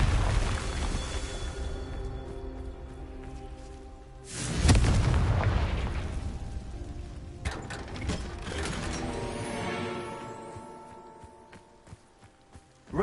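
A Confringo explosive spell from Hogwarts Legacy bursts with one booming blast mid-clip, set among mechanical clanks, rumbling game ambience and footsteps.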